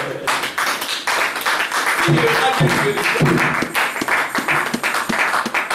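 A church congregation applauds and acclaims during a French-language sermon, with uneven clapping and cheering voices rising through the middle, then thinning into scattered individual claps.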